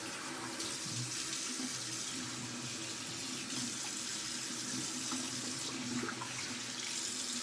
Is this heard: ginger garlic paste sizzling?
no